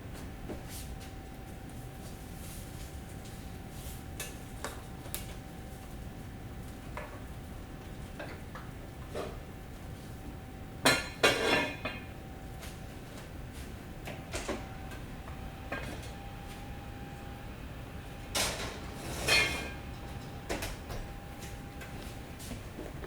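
A cast-iron Dutch oven holding a sourdough loaf is lifted and set into a hot oven, giving two brief clanking knocks of metal set against metal over a steady background hum, with quiet handling sounds between.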